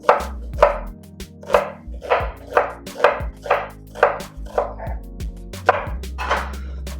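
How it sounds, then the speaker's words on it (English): Onions chopped with a knife for Wagyu beef fajitas, steady rhythmic board strikes repeating about every half second, close and clear, with a low hum underneath and no talk. "Now we're going to chop up some onions for the last ingredient"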